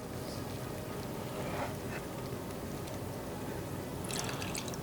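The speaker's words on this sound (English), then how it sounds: "Strain these out." Cherries are strained slowly out of Viking blood mead, giving a soft continuous trickle and dripping of liquid close by, with a few light splashes and no speech.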